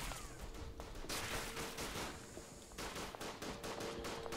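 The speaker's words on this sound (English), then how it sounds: "They're just shooting over the top" Rapid bursts of gunfire in the Verdun video game, overlapping rifle and machine-gun fire in loud, dense volleys across the whole clip, with no pauses.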